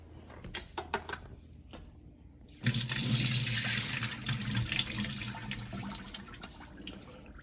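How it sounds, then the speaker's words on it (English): Rinsed rice being strained at a kitchen sink, with a sudden steady gush of water pouring through starting a third of the way in after a few small clinks, continuing loud and close to the end. "I'm gonna bring it over and just strain it."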